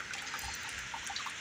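Hot water is poured to brew coffee at home, giving a faint, steady splashing trickle that runs without a break, alone and with no voices.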